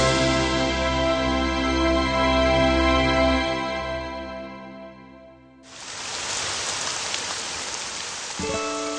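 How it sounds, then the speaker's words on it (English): Early autumn rain showers fall in Shoushan National Nature Park in Kaohsiung, with a steady, full hiss of rain beginning after a stretch of sustained tones and continuing to the end. "Refreshing rain showers leave a beautiful early autumn scene before the eye."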